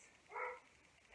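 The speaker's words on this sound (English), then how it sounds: "That's my dog, giving it large." A dog barks outdoors, heard from indoors as a single faint, distant bark with quiet room noise around it.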